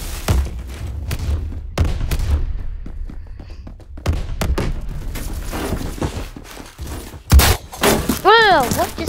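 A frag grenade detonates in the Phantom Forces shooter, one sharp booming blast late in a noisy stretch of game gunfire and thuds, with someone talking loudly over much of it.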